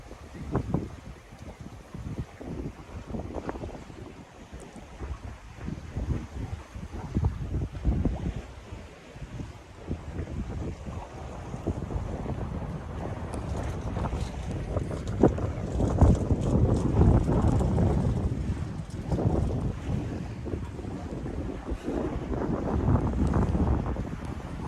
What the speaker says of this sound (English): Beautiful day sailing through the broken islands.